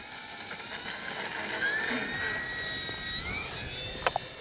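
An FMS P-51 Miss America radio-controlled model plane flies under power, a thin, steady high-pitched whine that rises slightly in pitch, heard from a distance with a couple of brief sharp clicks near the end.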